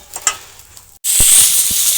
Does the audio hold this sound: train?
no